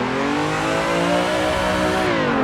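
A car engine in the racing game Assetto Corsa holds high, steady revs during a drift, a loud continuous drone that shifts pitch briefly near the end.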